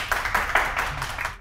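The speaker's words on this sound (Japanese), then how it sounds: "皆さん拍手でお願いします" A studio audience claps for a guest on a Japanese talk-show interview, giving a short, dense burst of applause that lasts about a second and a half and then stops abruptly.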